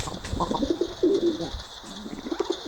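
Pigeons coo in soft, repeated rolling phrases close by, with a steady hissing background and no talking.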